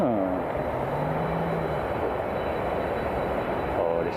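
A large jet airliner's engines rumble with a broad, steady roar at Miami International Airport, fairly near and loud, while people talk briefly at the start and end.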